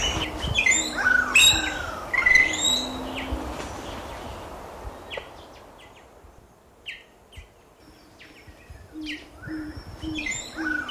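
Tongan whistler song in Tongan forest: a run of bright, clear whistled phrases and chirps up front, then sparser calls over a steady ambient hum, with softer coos and notes continuing near the end.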